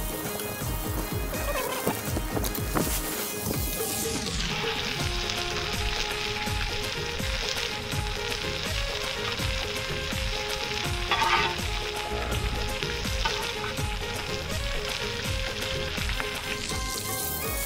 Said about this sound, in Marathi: आपल्या सुरमईच्या बोट्या आहेत ना मस्त अशा फ्राय झालेल्या आहे